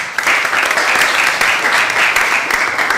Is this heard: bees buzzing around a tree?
no